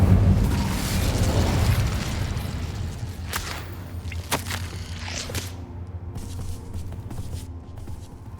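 Incendio fire spell cast in Hogwarts Legacy, a loud whooshing burst followed by several sharp crackling pops and booms that fade into quieter game ambience.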